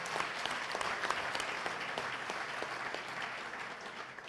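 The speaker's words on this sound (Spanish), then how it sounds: "la señora Rosa Arcelia Lewis Cristerna, para la que le pido un fuerte aplauso." An audience at an economics conference in a state congress applauds steadily with dense, even clapping that sounds somewhat distant and quiet, without speech over it.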